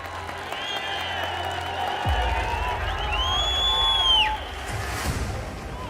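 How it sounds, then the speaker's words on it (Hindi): Audience at a live speech breaks into applause and cheering, a broad steady crowd wash with some whooping and a brief rising tone over it, loud and sustained throughout. "आपकी तालियां बता रही है"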